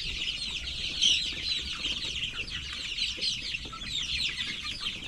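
Hens at a lechon farm clucking nearby, a continuous layered chatter of many birds over a low background hum, with no one speaking.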